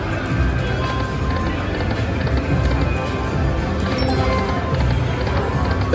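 Galloping horse hoofbeats from a slot machine bonus feature, a busy rapid clip-clop rhythm over casino electronic sound, loud and steady throughout.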